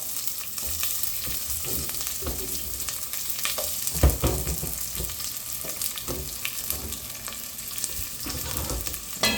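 Garlic, onion and ginger sautéing in a pan for pork rib adobo, a continuous close sizzle with irregular stirring scrapes and clinks, no speech.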